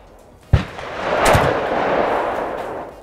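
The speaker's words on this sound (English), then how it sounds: "I'll shoot from my weapon, Benelli Raffaella Comfort." Single 12-gauge blast from a Benelli Raffaello Comfort shotgun loaded with 7.5 shot, 24-gram shells: a sharp, loud report followed by a long, broad rolling echo that slowly fades.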